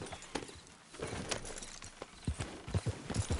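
A ridden horse's hooves clip-clop in an uneven rhythm, faint at first and growing closer and more distinct toward the end, with no talking over them.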